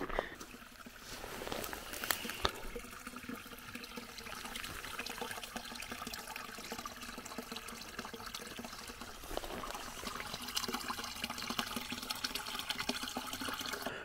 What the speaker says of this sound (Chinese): 这里的水声更大，我去拍一下水